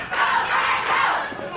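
A wrestling crowd at a Memphis wrestling show cheers loudly and steadily, a dense roar of many voices that holds throughout with slight swells.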